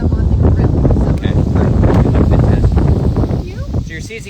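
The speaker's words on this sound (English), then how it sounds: "Ooh, windy. It's a windy one." Wind blowing across an outdoor grill where shrimp are being seasoned and cooked, a steady broadband rush buffeting the microphone throughout, with voices talking underneath.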